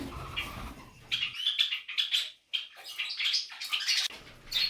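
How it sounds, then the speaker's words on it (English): Rosey Bourke parakeets and other parrots chirp in an aviary with large parrots, Kakariki and Java finches, giving quick bright tweets and calls in dense overlapping bursts near and clear. "now Malibu is much more calmer with the Rosey Bourke Parakeets"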